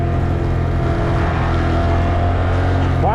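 Motorcycle engine during wheelie practice, a loud, close, steady drone holding at high revs, then a brief rising rev at the very end.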